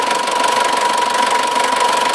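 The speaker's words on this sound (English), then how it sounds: "Now let's leave it ticking over for a bit" A Nissan Terrano 2.7 TDI diesel engine idles with a steady, loud mechanical clatter and a constant tone that stays even throughout.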